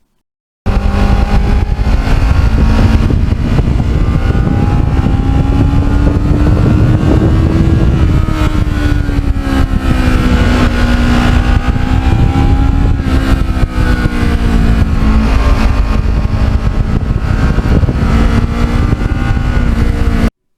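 Black and gold Kawasaki Ninja accelerates hard through the gears on an open road, a loud close engine note rising and dropping with each shift.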